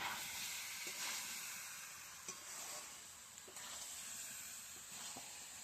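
Young jackfruit curry cooking in a pan, giving a quiet, steady sizzle and hiss with occasional soft stirring taps.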